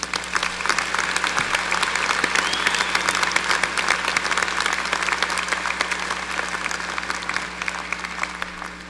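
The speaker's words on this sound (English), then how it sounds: "Let's join in applauding all of these distinguished students." A large audience at a December 2014 Missouri Southern commencement ceremony applauds its distinguished students with sustained, even clapping that fills the hall for the full duration without letting up.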